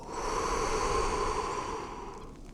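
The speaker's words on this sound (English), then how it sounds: "And then I take a dragon breath." A big, deliberate breath while hugging a tree outdoors, one long, close, breathy exhale that slowly fades, with no talking.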